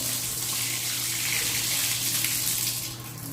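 Water runs steadily from a freshly repaired household faucet, a close, continuous stream that stays even from start to finish with no voices over it.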